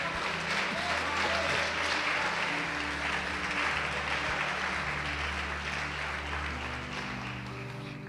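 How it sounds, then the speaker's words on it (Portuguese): A church congregation applauding, a broad, steady wash of clapping from many hands over sustained organ or keyboard chords, gradually easing off toward the end. "Pode aplaudir o Senhor e glorificar a Deus."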